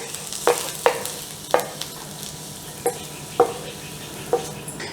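Onions frying in a pan for a classic Philly cheesesteak: a spatula gives about eight sharp scrapes and taps, evenly spaced, over a soft steady sizzle, close and with no voices.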